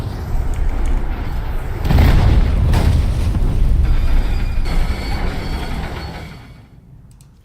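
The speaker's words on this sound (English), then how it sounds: "Bombs away." Bombs dropped from an aircraft in the combat game War Thunder detonate in a heavy, rumbling blast that swells and rolls on for several seconds before fading out, loud and deep with no talk over it.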